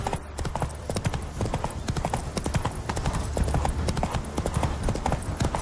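Roach, a horse in The Witcher 3, gallops in a steady rapid clip-clop of hooves, close and loud, with a brief whinny near the start over low game ambience.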